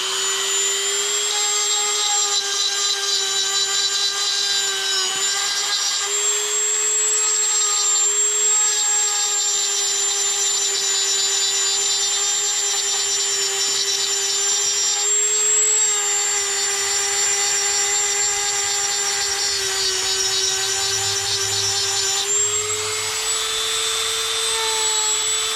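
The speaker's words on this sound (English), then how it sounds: "this is just a basic Dremel Carve bit" A Dremel rotary tool with a basic carving bit carves a tombstone, giving a loud, continuous high-pitched whine held steady for the whole stretch with slight pitch dips as the bit bites in.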